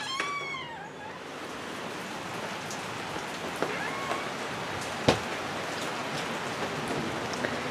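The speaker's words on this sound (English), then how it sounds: "We're having a nice rain." Steady rain falls outdoors in a soft, even patter on surfaces, with a few louder drips and taps standing out, and a brief animal cry near the start.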